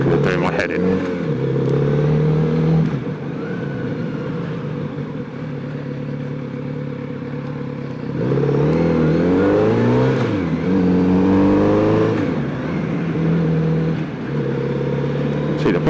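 A Kawasaki Z900RS Cafe motorcycle with a full Racefit titanium exhaust accelerates from 30 mph toward the national speed limit on a road with traffic, its engine note rising and falling through gear changes, loud and close, with other cars nearby.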